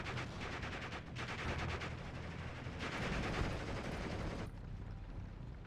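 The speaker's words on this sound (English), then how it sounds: "There's a lot of machine guns, a lot of MGs." Machine gun fire in the WWII strategy game Steel Division 44, a dense, continuous crackle of automatic bursts mixed with distant rifle shots, sustained at moderate level without a break.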